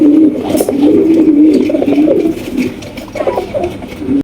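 Pigeons coo steadily at a pigeon farm with show breeds such as Giant Homers, the low rolling calls continuous and close, with a brief dip before resuming.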